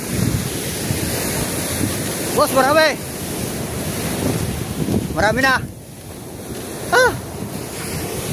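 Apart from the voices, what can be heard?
sea waves on the shore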